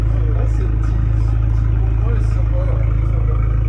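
Fiat 500 Abarth Stage 1 engine growling at a steady low rumble, loud and close, with people talking over it.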